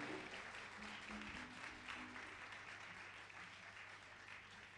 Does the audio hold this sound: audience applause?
yes